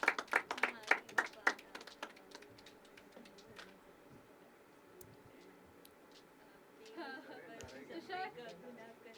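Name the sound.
audience applause at poetry open mic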